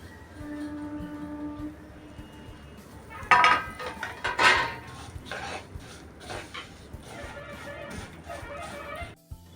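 Thin vermicelli being roasted and stirred in hot ghee in a pan: a spoon clinks and scrapes against the metal in scattered bursts, close by, over a faint steady hum at the start.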